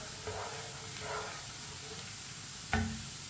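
Onions browning in a pan for lauki ki sabzi, with a steady low sizzle and a few soft stirring scrapes, then a sharper clatter of the spoon near the end.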